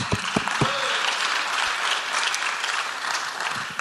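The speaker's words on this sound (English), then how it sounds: "Let's give him a hand clap of thanks." A church congregation claps in thanks, starting with a few sharp distinct claps that quickly merge into steady, moderately loud applause before tapering.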